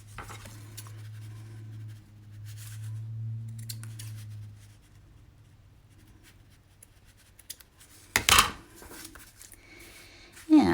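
Scissors trimming paper for a handmade card, a couple of sharp, close snips near the end after quieter handling and rustling at the work table.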